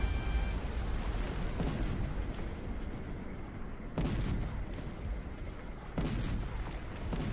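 Heavy booming cannon blasts in a Cossacks: Art of War battle hit in quick succession, each followed by a rumbling decay, with loud repeated bursts at roughly two-second intervals.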